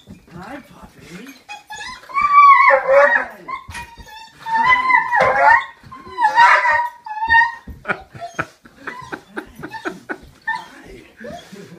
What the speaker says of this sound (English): Let's see how our dog Mystic reacts